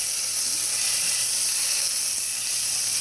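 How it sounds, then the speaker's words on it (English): Butter sizzling in a hot pot while cooking, a steady bright hiss that holds evenly the whole time, loud and close with no voices. "now we're putting the butter into the pot"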